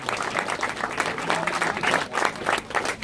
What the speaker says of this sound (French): Vos applaudissements pour Alexis Renard, s'il vous plaît, merci.